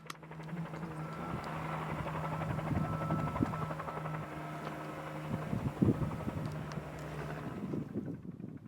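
A helicopter hovers and works over open desert ground during a wild burro roundup, its steady rotor drone faint and distant with wind buffeting the microphone and occasional nearby knocks and rustles.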